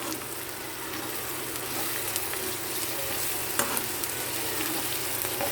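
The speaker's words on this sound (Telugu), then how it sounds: "ఇది కూడా ఉల్లిపాయలతో పాటే పచ్చివాసన పోయేంత వరకు కూడా వేయించుకోవాలన్నమాట" Onions and eggplant frying in a pan for a brinjal and chana dal masala curry, a steady broadband sizzle with faint scraping stirs, close and even throughout, no voices.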